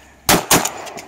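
Shotgun blasts at ducks on a pond hunt: two sharp, loud reports in quick succession, close by, each trailing off in a short echo.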